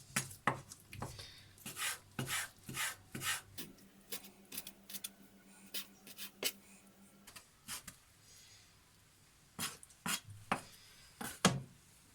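A knife chops chicken thighs rapidly into small pieces on a cutting board, sharp steady knocks in quick bursts with brief pauses, close and clear.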